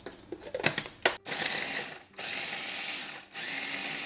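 Purple onion and garlic are pureed in a food processor: a few sharp chopping bursts, then a steady high whirring motor in three long runs with short pauses, close and loud, without talk.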